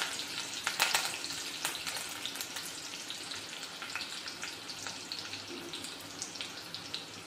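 Curry leaves hit hot oil for a sprouted masoor usal, giving a crackling sizzle with sharp pops early on that settles into a softer, steady fizz, fairly quiet and without speech.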